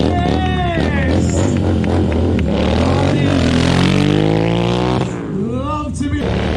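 A Royal Enfield motorbike in a stunt show at the Peterborough MCN motorbike festival revs hard and roars past, its engine pitch sweeping up and down, loud and close throughout.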